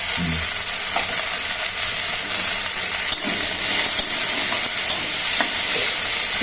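Green chillies and cumin fry in hot oil in a pan, giving a loud, steady sizzle with faint stirring scrapes and no talk throughout.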